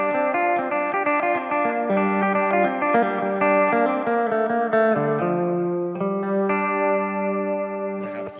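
An electric phin through its rear humbucker pickup plays a bright, punchy melodic run with quick picked notes and sustained tones, loud and close, no voices over it.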